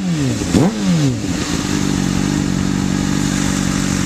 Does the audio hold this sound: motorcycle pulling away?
yes